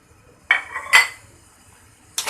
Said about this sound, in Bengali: এই শিরার মধ্যে আমি আমের মুরব্বাগুলিকে দিয়ে দিব